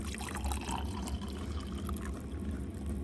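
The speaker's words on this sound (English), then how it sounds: "the rest of the water now we'll put into the water tank" Water poured into the water tank of a live steam plant, a steady, faint rushing pour that runs continuously throughout.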